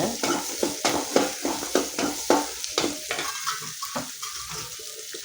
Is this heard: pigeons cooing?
no